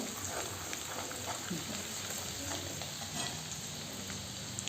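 Turmeric sautéing in a pan for a traditional dried chickpea-leaf vegetable dish, a steady close sizzle and frying hiss with faint stirring scrapes throughout.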